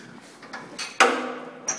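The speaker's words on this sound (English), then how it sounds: "It's them glass doors, they're quite delicate there." Delicate glass doors in the old pool area of a listed building knock and rattle in a few short bursts, one sharp louder impact midway and a final clack, heard close with no talk.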